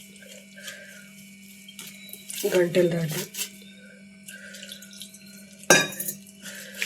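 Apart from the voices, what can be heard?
mixing gram flour stuffing batter with water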